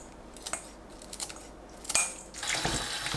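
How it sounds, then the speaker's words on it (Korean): Dried pollack strips being rinsed in water by hand, with a few soft splashes and drips early on, then a steadier wet sloshing rush near the end, close and fairly quiet. "물에 씻어줍니다."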